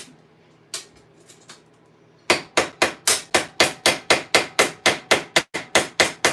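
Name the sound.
ball peen hammer riveting on half gauntlets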